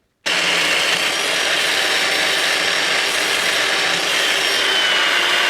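Power-tool polishing of an electric bike's brake disc surface: a loud, steady abrasive whir that starts abruptly and runs unbroken at close range.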